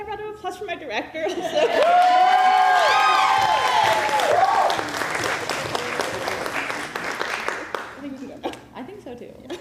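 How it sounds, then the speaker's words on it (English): An audience applauds a theater director at a new works festival night, a loud sustained burst of clapping with chuckles and cheers, fading into scattered claps and voices. "Do you want a round of applause for my director?"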